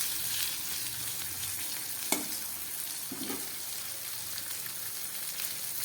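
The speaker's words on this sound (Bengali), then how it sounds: "গ্যাস কমিয়ে আলু পটল খুব ভালো করে আমি ভেজে নিলাম" Potatoes and pointed gourd fry in a pan over low gas, a constant sizzle with a couple of stirring scrapes and clinks partway through.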